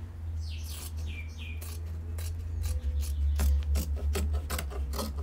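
Scissors snipping fabric to trim around an armhole circle, a few quiet crisp cuts and rasping slides of the blades, faint and close with no speech.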